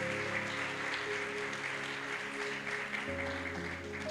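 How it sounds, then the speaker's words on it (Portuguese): Congregation in a church service applauding in steady sustained clapping, with organ or keyboard chords sustained beneath and no talking. "Você pode aplaudir ao Senhor Jesus?"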